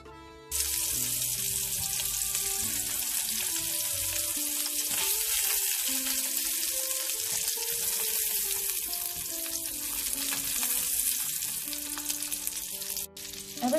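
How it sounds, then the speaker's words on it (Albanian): Meatballs frying in a pan of oil give a steady, loud, hissing sizzle that runs almost unbroken from start to finish, with no voices over it. "Do i fërgojmë nga të dy anët nga pak."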